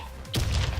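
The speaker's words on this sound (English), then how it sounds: "Oh, grenade!" A grenade explodes in the shooter game Warface, a sudden loud thud that swells into a rumbling blast lasting to the end.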